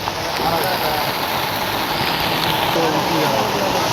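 Floodwater from heavy rain pours over a canal and onto the road, a constant loud rushing wash with no letup, close by.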